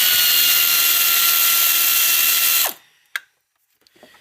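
Loosening a 10 mm bolt on a Honda J35 V6 engine: a steady, loud ratchet whirring runs for about two and a half seconds, then stops sharply, followed by a single click and faint handling noises.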